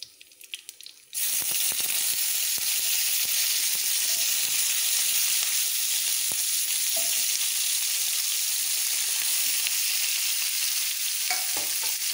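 Vegetables go into hot oil in a pan for veg hakka noodles, and a loud, steady sizzle and hiss erupts suddenly and carries on close by without a break.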